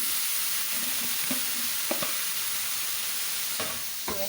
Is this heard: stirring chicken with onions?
yes